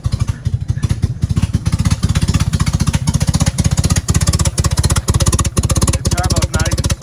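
An old turbocharged project car engine that has been sitting a while, idling loud and close with a rough, rapid, evenly pulsing chug that holds steady throughout, no talking.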